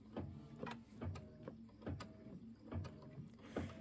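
An embroidery machine stitching quilting on a Kimberbell Nativity bench pillow block, a faint steady mechanical hum broken by regular rhythmic clacks about twice a second, with no talk.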